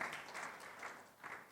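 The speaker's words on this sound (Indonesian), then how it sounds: "Sekali lagi, boleh tepuk tangan bagi Tuhan Yesus." Congregation applauding during a Sunday church worship service, a steady wash of clapping heard faintly from a distance, with no clear talk.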